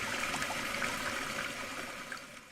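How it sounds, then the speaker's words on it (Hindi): Water runs from a wash basin tap indoors in a steady, hissing trickle, moderately quiet and continuous, with no one speaking. "अरे यहाँ से भी पानी बह रहा है।"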